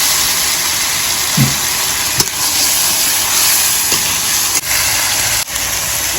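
Chicken pieces dropped into spice paste frying in a pan for a village-style chicken and soybean dish, giving a loud, steady, close sizzle with a few faint clicks and knocks.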